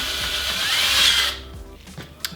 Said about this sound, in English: Now I've got to drill holes here and put my little drinkers in the bucket.